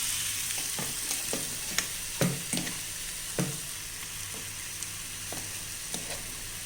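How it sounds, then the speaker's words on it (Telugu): Popu tempering being stirred in a hot pan while it fries, for raw tamarind chutney: a steady soft sizzle runs throughout, broken by repeated sharp scraping and clinking strokes of the spoon against the pan, close and fairly quiet, with no talk. "ఇదిగోనండి పోపు అంతా ఇలా కలిసిపోయింది."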